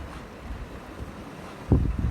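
Strong wind roars across the microphone in a low, continuous rush at a beach fishing spot in Duder Regional Park, New Zealand, with a louder gust near the end.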